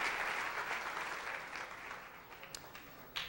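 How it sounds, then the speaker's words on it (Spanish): A church congregation at an evening evangelical service applauds, a broad wash of clapping that fades over a few seconds, with a couple of sharp louder claps near the end. "Y fuerte el aplauso a Cristo en esta noche."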